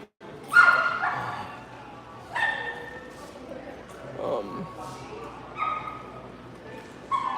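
A pet dog barks indoors, four or five loud, spaced barks and yips close to the microphone, with people talking and calling to it in between.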